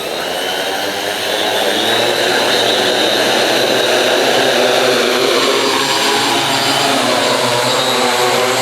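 An RC wing suit's electric motor runs at full throttle, a loud, steady whirring roar that swells after the first second and holds evenly to the end.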